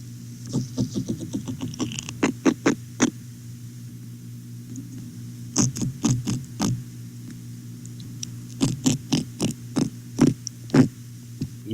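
Underwater recording of a teleost fish grunting: bursts of short, rapid pulses in quick trains, three clusters separated by pauses, heard over a steady low hum.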